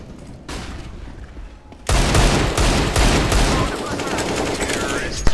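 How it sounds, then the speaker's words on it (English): Video game combat: a quiet stretch gives way to a sudden loud burst and then sustained rapid gunfire that stays dense and close, with a voice faintly underneath. "Let's throw in the flashbang!"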